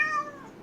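A house cat gives a single clear, close meow, drawn out and falling in pitch over under a second, heard on its own without talk.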